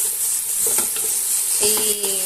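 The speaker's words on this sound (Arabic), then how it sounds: "أظل استمر أحمس في البصل إلى أن يعطيني اللون" Onions frying and being stirred in a pan for a simple old-style Iraqi winter dish, a steady close sizzle with spatula scrapes and clinks throughout and a brief ringing clatter near the end.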